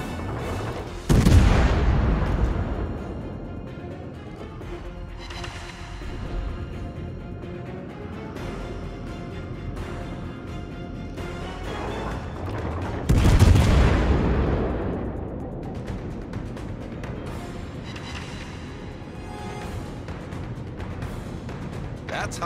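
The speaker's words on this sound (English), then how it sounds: "Concentrate fire on the target." Naval artillery in World of Warships firing from a Japanese Tier 10 cruiser, the Zao, with two heavy booming salvos about twelve seconds apart, each followed by a long rumbling decay, under ongoing game sounds and occasional voice lines.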